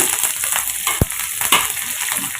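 Fennel seeds sizzle and crackle in hot oil, a steady close frying hiss with a couple of sharp pops and stirring scrapes.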